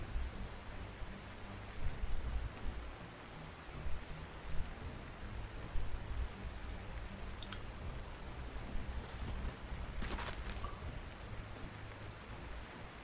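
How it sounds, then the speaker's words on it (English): Steady rain in the video game Panzer Corps 2 hisses and patters continuously, with a faint rumble underneath and no voices. "But it is raining"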